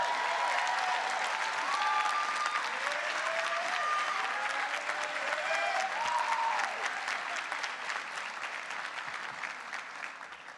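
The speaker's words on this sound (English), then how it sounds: "Let's give Coleman a round of applause." Sustained applause from a graduation ceremony crowd fills the space, dense and steady for about ten seconds before easing slightly, with faint cheers and voices mixed in.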